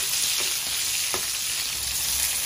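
Garlic and onion hitting hot oil for a pork stew, a loud dense sizzle that holds steady throughout with a few faint stirring scrapes underneath.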